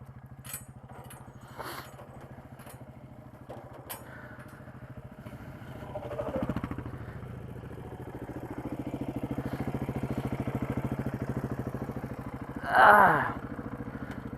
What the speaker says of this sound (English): The bike's, well, seems like it's still idling.